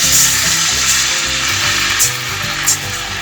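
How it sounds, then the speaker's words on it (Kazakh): Tomato paste frying in a pan as water goes in, giving a loud, steady, close sizzle with bubbling and faint stirring scrapes that runs throughout without pause. "Енді суымызды құйсақ болады"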